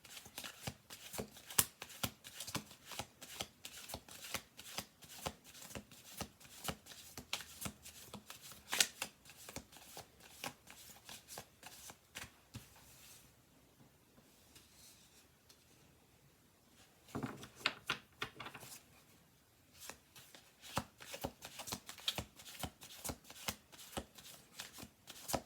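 Two new decks of playing cards are shuffled and riffled close up in quick, crisp bursts of ruffling flutters, with a quieter pause midway before the brisk shuffling resumes.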